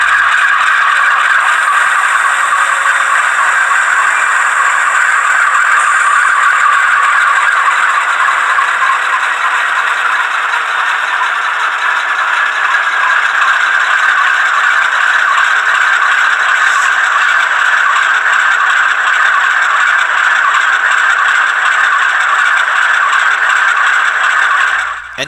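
A Rapido MLW M420 model locomotive with a coreless motor runs at a slow crawl, giving a steady close whirring, rattling drone that holds for the whole stretch with only slight wavering and no talk.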